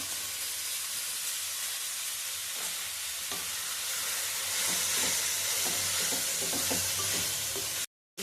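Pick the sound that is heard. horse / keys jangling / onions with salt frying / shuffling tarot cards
onions with salt frying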